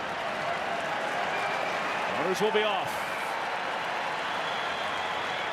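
Crowd noise fills a ballpark at a Diamondbacks–Cubs game, a steady broad roar that swells briefly with a louder shout, while a play-by-play announcer talks over it.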